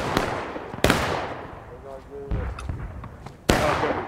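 A musket volley fired downhill in a video game skirmish comes as three loud, sharp booms spaced apart, each trailing off, with quieter game noise and a brief voice between them.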